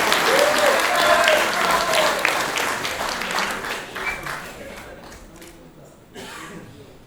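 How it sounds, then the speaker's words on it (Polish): Applause at a Polish award ceremony for users of medical software, loud and dense at first and then thinning and fading as individual claps taper off, with a voice briefly audible over it. "I jeszcze trochę, drodzy Państwo, prosimy o jeszcze dłuższe brawa."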